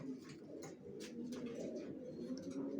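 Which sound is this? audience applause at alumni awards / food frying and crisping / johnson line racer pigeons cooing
johnson line racer pigeons cooing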